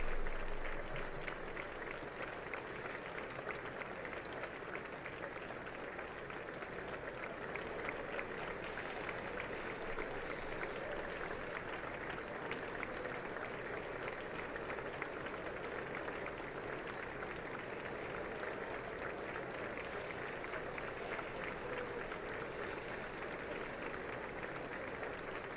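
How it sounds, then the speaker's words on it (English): A large audience claps steadily and continuously at the State of the Union address, a dense, even wash of applause heard from a distance, faint and unbroken. "tell me you can hear the clapping."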